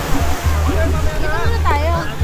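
Sea waves rush and crash on a Mindoro shore in a continuous loud wash, while several people talk and call out over the surf.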